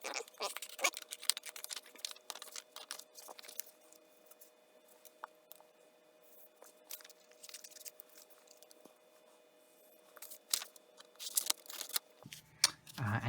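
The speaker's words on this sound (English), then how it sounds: "You need to cut out little triangles." Scissors cut black paper into small triangles for a rocket craft, with close, quiet snipping and crisp crunching cuts in irregular bursts, and soft rustles of paper between them.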